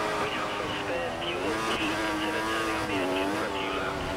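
An F1 racing car engine in a video game, running on worn option tyres at Hockenheim, drones continuously with its pitch rising and falling as it revs, close and steady throughout.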